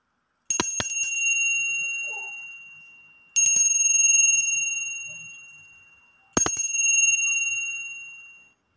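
A bright bell rings three times, each ding sharp and clear, then ringing out and slowly decaying before the next strike, evenly spaced.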